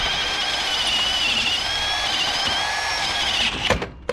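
A Milwaukee Fuel brushless cordless drill runs continuously with a steady high whine, loud and close, while driving a bolt on a multiposition channel trailer coupler, then winds down and stops near the end.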